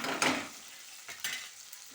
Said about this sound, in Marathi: तेल गरम झालाय. थोडासा मसाला टाकूया.